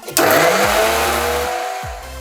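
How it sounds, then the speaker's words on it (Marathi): A kitchen mixer grinder whirs loudly, grinding fresh coconut with half a spoon of turmeric: a sudden start into a steady, close, high-pitched motor roar that drones on with slight shifts in pitch. "हे सगळं आता मिक्सरला वाटून घ्यायचं बारीक हे आपण आता वाटून घेऊया"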